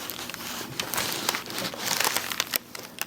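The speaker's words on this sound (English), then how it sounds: "all you hear is the paper" Paper sheeting on a chiropractic treatment table crinkles and crunches close up in a steady run of irregular rustles, with no talking.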